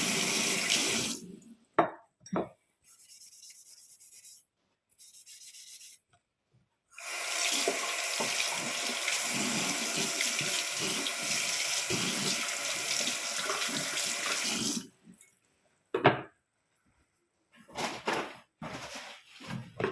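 Tap water runs into a sink while an orange is washed by hand, a short trickle early on, then a long steady stream for several seconds before brief splashes and handling sounds, with no talking.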